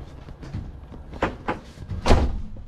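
A solid, heavy entry door on a Country Coach Affinity 700 motorhome being pulled shut, a few preceding knocks and rattles, then one firm close-up slam with a deep thud.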